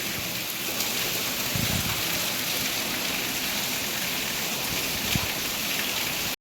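Heavy rain pours down in a dense, steady hiss throughout, with no voices over it.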